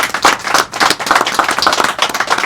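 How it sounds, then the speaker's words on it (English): A short burst of applause from a small group at a Habitat for Humanity meeting, steady hand claps close by with no voices over it. "How about a round of applause for the citizens?"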